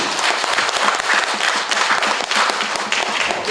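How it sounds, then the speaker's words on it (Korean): Applause from the audience closing a public square debate on a railway route, crisp clapping from many hands, steady and fairly close, with no voices over it. "네, 박수로 마치겠습니다."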